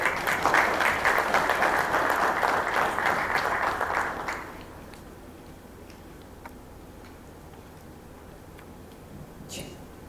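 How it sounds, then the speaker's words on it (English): An audience at a launch event for the Switch Mobility EV12 electric bus applauds in a dense round of clapping for about four seconds, which then stops abruptly, leaving a quiet room with a few faint ticks. "can we have another big round of applause for the EV12?"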